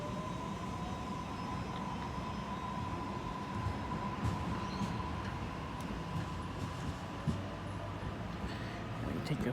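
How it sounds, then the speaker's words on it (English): A commuter train pulls away from the platform at Waitara station, a steady low rumble and hum of the rail cars with a faint tonal whine, continuous and fairly close, a few soft clunks along the way. "we have A11 departing platform 1 for a central service"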